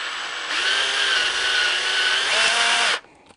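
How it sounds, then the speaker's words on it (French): A power drill fitted with a 16 mm hole saw cuts into a 12-gauge shotgun slug shell, a loud steady whine that holds for about two and a half seconds, then stops abruptly. "ce trépan là, vous le montez sur une perceuse tout simplement"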